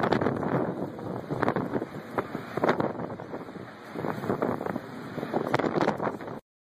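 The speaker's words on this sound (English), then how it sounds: "Look at that damn wind" Strong wind roaring around a large 230,000-ton ship, a loud, continuous blustery rush buffeting the microphone with surging gusts throughout.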